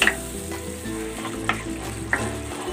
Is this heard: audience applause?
no